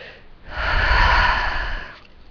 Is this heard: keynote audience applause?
no